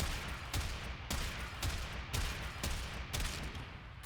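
The Hek shotgun in the game Warframe fires about eight booming shots at a steady rhythm, each blast loud and close with a short tail.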